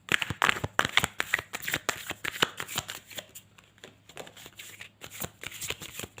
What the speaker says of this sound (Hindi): तो हम कार्ड को सेट करते हैं। तो हम यहाँ ओरेकल कार्ड से भी दिखेंगे कि क्या आ रहा है आपके लिए।